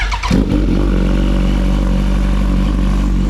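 Kawasaki Ninja H2 supercharged sportbike firing up, a brief clattering start followed by a loud, steady close idle with a dense low rumble.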